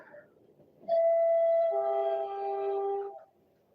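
Train horn in a video game sounds two steady sustained tones, loud and close, the second pitch joining partway and both holding for about two seconds before cutting off, with no voices over it.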